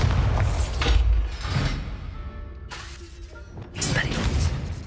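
Confringo fire spell cast in Hogwarts Legacy, heard as a whooshing burst followed by booming, shattering impacts, with a second blast toward the end and a ringing tail between them.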